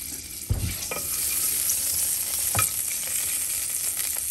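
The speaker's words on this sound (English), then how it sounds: "Now we're going to saute the spices." Spices and ginger saute in a pan with a continuous bright sizzle, and a couple of sharp stirring scrapes break through the hiss.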